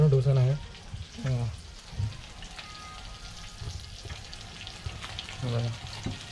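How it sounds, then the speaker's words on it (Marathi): Rice bhakri cooking on a hot tawa gives off a soft, steady sizzle and hiss, with a few brief bursts of a nearby voice over it. "बघा दुसरी भाकर आपली बनते परत"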